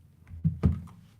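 A computer keyboard pushed back across a desk, giving two short close thunks with brief scraping over a quiet room.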